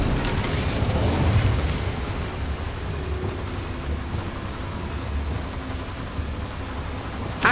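Incendio fire spell cast in Hogwarts Legacy, a sustained roaring whoosh of flame that holds steady and loud for several seconds, ending with a brief burst.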